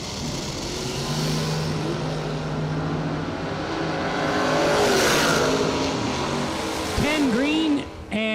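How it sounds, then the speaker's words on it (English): An Opel GT drag car launches down the strip at a drag racing event, a loud roaring engine rising and sweeping in pitch, while a commentator talks over the racing noise and crowd. "Green and 34 under for the Opal in the left lane for David Braskett."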